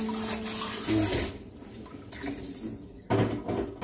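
Dishes are rinsed under a running kitchen tap, a steady close stream of water splashing and changing tone as items pass through it, with occasional clinks and faint talk in the background.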